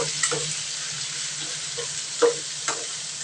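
Chicken pieces, already salted, sizzle and fry in melted butter for a Filipino sopas, with a steady broadband hiss and a few louder spatters and stirring clacks over it.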